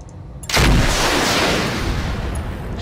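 Mech weapons in the RogueTech BattleTech mod, with autocannon and streak missiles, open fire in one sudden loud blast that rolls into a long rumbling barrage, fading slowly.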